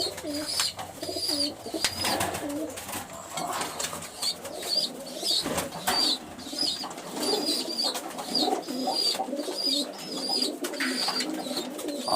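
Pigeons coo repeatedly in a coop during the early-winter egg-laying season, their soft rolling calls recurring steadily throughout at close range with a faint background hum and no talk.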